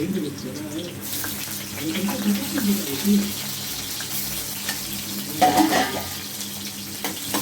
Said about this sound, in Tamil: இஞ்சியும் பூண்டு நல்லா வதங்கணும்